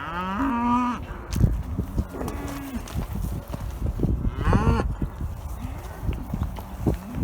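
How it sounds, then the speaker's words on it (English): Cattle moo repeatedly, several long lowing calls overlapping with shuffling hooves and outdoor movement, fairly close and loud. "Cows are unsettled for some reason"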